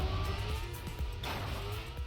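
A steady race car engine drone in the video game Trackmania Stadium, with a rising whine at speed, running continuously with a few bumps in the tone as the car goes over bumps.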